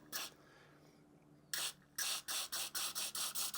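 Short hissing bursts from an aerosol spray cleaning a lawnmower carburetor's holes, one early, then a longer blast followed by a quick rhythmic series of puffs, close and fairly loud.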